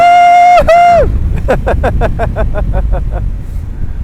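An Aprilia Tuareg 660 motorcycle accelerates hard on the throttle: a loud, high engine whine abruptly drops as it shifts, followed by a rapid series of about a dozen rhythmic pulses over a low rumble.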